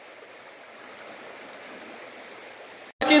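A river in Bahia runs high after heavy rain, a soft, continuous rushing of flowing water heard at a distance, ending with a sudden louder burst.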